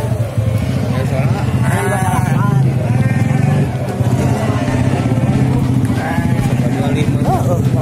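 Sheep bleating at a crowded livestock market in Garut, several wavering bleats rising over loud crowd chatter and nearby talk, with motorcycle and traffic noise running underneath.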